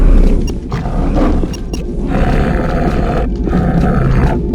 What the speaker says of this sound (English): the Pinky Demon has its own active sound and it plays it often